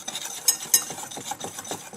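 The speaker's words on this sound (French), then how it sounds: "Je vais mélanger ces poudres pendant quelques secondes." Icing sugar, almond powder and cinnamon get mixed in a bowl, giving close, quick rhythmic scraping and tapping strokes with a couple of sharper clinks.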